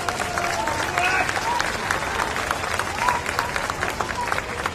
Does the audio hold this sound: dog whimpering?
no